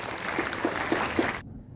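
Audience applause at a Mahar Regiment 84th anniversary gathering, a steady broad wash of clapping that carries on for over a second and then cuts off abruptly.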